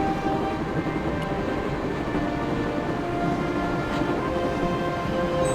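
Train running in the Broken Sword: Shadow of the Templars video game, a steady loud rumble of rolling carriages with faint rhythmic clatter, continuous and close without talk.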